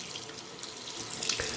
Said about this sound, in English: I'm just going to run it under some water.